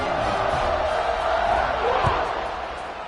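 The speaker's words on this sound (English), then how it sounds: "this crowd is buzzing after that last score" A stadium crowd in a college football video game against Arkansas buzzes in a loud, continuous broadband roar, with a few louder swells and thumps rising out of the dense, distant mass of voices.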